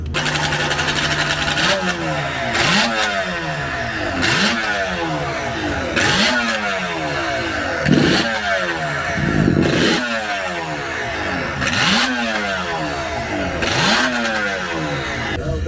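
A classic racing motorcycle built around a Yamaha RD 500 engine, a non-Jawa motor in a classic racing bike, revs hard and repeatedly, each burst climbing in pitch and then dropping back in a steady rising-and-falling cycle, loud and close throughout.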